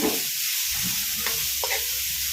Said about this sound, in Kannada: ತುರಿದಿಟ್ಟಿರೋ ಕ್ಯಾರೆಟು ಎಲ್ಲ ಹಾಕ್ಕೊಳ್ತೀನಿ. ಎಲ್ಲ ಹಾಕ್ಕೊಂಡು ಫ್ರೈ ಮಾಡೋಣ.